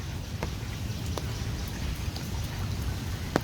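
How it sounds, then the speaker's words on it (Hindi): Light rain falls steadily in Lahore, a soft, even hiss with scattered close drops ticking on surfaces, continuous and fairly quiet throughout with no voices. "अभी करंटली तो ये बारिश बहुत हल्की हो गई है।"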